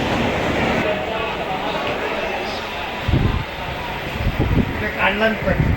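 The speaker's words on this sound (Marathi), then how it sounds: "आता आपण ट्रेन पकडलेली आहे" Steady rumble and hum inside a moving carriage of the Mahalaxmi Express bound for Kolhapur, with people talking nearby over the noise.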